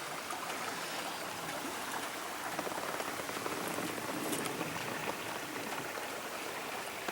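A creek on a 160-acre rural property in Knox County, Missouri, where a deer trail crosses, flows with a steady, even rushing and trickling wash, constant and unbroken throughout.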